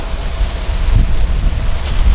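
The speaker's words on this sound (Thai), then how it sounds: "โอ้ลมเย็นดีครับ" Strong wind blows steadily outdoors beside a road being leveled by a grader, roaring and buffeting loudly across the microphone without pause.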